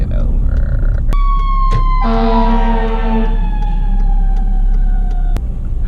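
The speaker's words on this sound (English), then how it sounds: "Fire truck averted." Fire truck siren passing close behind a car on the road, loud wailing tones that slide down in pitch as the truck goes by, over constant low road rumble.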